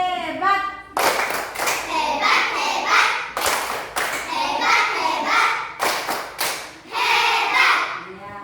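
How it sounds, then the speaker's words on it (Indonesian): A classroom of children claps together in a patterned group clap, sharp synchronized bursts broken by short pauses, with chanting voices mixed in between the claps. "Tepuk hebat."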